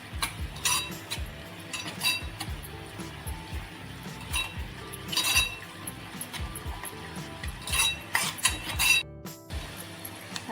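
A spoon clinks and scrapes against a bowl in uneven bursts while turmeric, asafoetida and Kashmiri red chilli powder are mixed together, close and clear with no talk.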